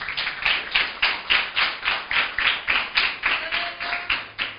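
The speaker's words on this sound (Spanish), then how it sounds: "Aplauda al Señor," A church congregation claps in unison, about a dozen sharp, evenly spaced beats in a steady rhythm, close and fairly loud, with no speech over it.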